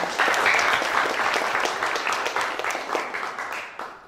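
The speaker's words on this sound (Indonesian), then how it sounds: "Boleh tepuk tangan juga." A crowd applauds steadily, a dense wash of clapping that holds for several seconds before beginning to fade.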